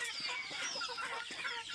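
Desi chickens cluck softly and repeatedly on a farm, a scatter of short, faint clucks and murmurs at a moderate distance with no other sound standing out.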